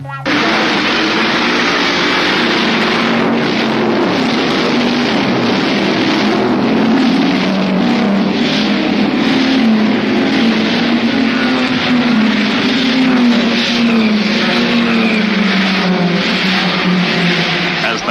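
About 60 race cars roar away at the start of the 1971 Bathurst race at Mount Panorama, a loud, dense wall of engines revving and surging together for many seconds, with a commentator speaking over the din.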